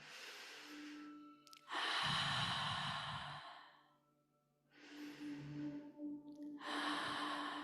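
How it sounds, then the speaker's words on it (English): Big deliberate breaths taken during a family stretch class: loud, close inhales and long sighing exhales, two drawn out pairs separated by a brief quiet pause, no speech. "Let's take those 3 big breaths."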